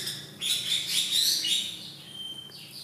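Two birds in an aviary cage chirp and tweet in quick, bright bursts close by, the calls overlapping at first and then thinning to sparse high notes, with no voices.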